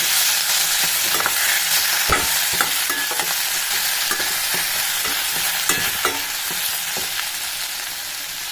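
Chutney ingredients with curry leaves and coriander sauté in hot oil, giving a steady loud sizzle broken by repeated scraping clicks as a spatula stirs the pan close up, with no voices.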